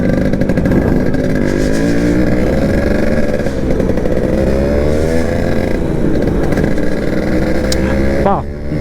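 A Yamaha RX100 two-stroke motorcycle revs loudly up close for several seconds, its buzzing engine note rising and falling, while someone talks over it.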